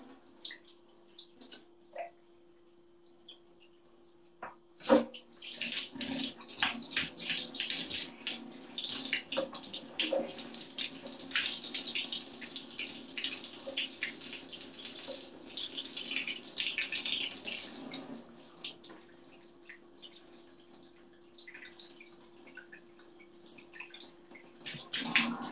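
Water streams steadily from a shower with a broken door, a broad hiss that starts abruptly and runs loud for most of the stretch before easing off near the end, with no voices over it.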